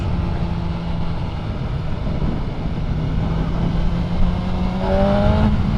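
A 2025 BMW M 1000 R Competition Pack naked motorcycle engine drones loudly with steady wind rush while riding, then its pitch climbs as it revs toward the end.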